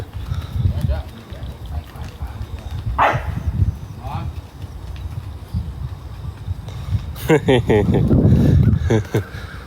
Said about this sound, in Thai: หมามันชอบเห่า